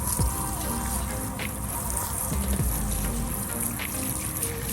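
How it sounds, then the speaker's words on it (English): A car is rinsed with a hose sprayer fed from portable on-the-go water tanks, giving a steady, fairly quiet trickle and patter of water running off the bodywork. "Here's my sprayer that's connected to them. And we're just going to go ahead and rinse."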